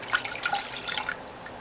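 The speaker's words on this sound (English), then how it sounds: "we are going to add our 1 cup of water." A cup of water is poured into a medium saucepan on a stove, making brief splashing and dripping sounds for under two seconds, close and fairly quiet with no talking.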